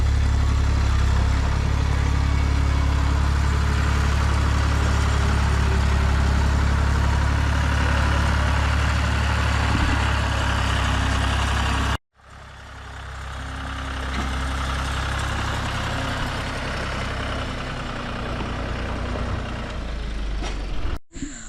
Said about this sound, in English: They are indeed backing up the tractor.